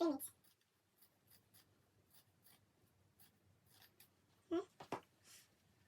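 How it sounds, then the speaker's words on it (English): Shear scissors trim excess tulle mesh fabric for a turban, giving faint, scratchy rustles and a few sharper snips close by near the end in an otherwise quiet room. "I'm going to grab my shear scissor, then trim the excess fabric at the side"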